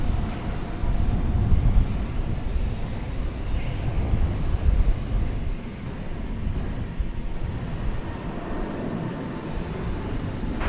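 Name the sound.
Delta jet airliner landing at DFW airport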